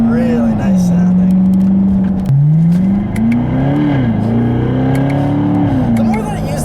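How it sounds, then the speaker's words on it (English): A 2015 Chevrolet Corvette with sports exhaust and an 8-speed automatic revs loudly and close by, the engine note dropping and climbing again through rev-matched downshifts, with a voice talking over it. "I love the way it sounds. It's so good, especially with this sports exhaust and those rev match downshifts."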